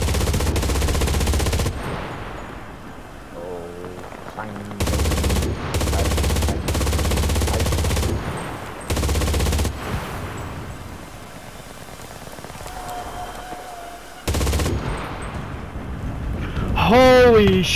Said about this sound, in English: I'm calling in artillery.